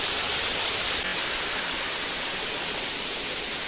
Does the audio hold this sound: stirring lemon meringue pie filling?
no